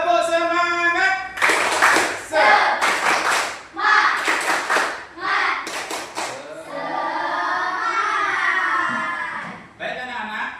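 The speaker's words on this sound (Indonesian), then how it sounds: "Tepuk semangat." Pupils in a classroom do a 'tepuk semangat' chant, mixing short bursts of rhythmic group clapping with sung or chanted phrases. Their voices and claps alternate in a patterned beat, close and lively.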